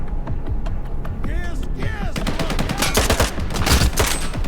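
Rapid gunfire in S.T.A.L.K.E.R. 2 rattles out in dense bursts, with ricochet whines in between. The shots grow busier and louder toward the end, loud and close.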